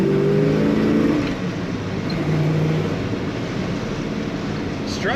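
A 1967 Pontiac GTO two-door hardtop with a four-speed manual accelerates hard, its engine roaring loud and steady close by for several seconds before a brief higher sweep at the end.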